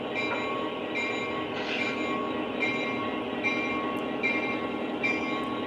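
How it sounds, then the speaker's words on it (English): O gauge model train pulled by an F40 diesel locomotive at full throttle, a steady near rumble of running wheels with a sustained motor drone and faint periodic clicks over track joints. "when I'm running this F40, I run the diesel RPM at full throttle"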